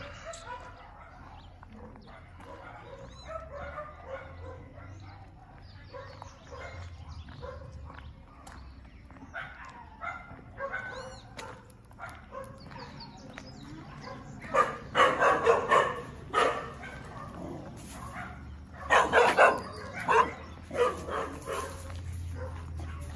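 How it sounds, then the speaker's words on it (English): Several dogs at a house in San Isidro de El General, Costa Rica, bark from a moderate distance in loose, irregular bursts that grow louder and denser toward the end, mixed with faint outdoor background noise. "didn't you bark at us when we came by?"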